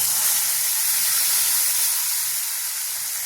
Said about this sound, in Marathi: आता हे टाकून घेते ताक